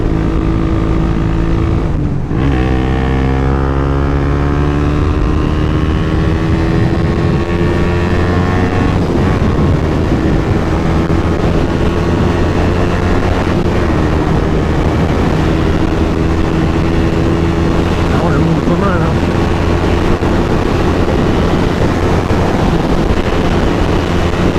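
A Suzuki GSX 125S motorcycle past its break-in period rides in fourth gear, its engine droning loud and close with a rising whine as it pulls, wind buffeting the microphone, no voices.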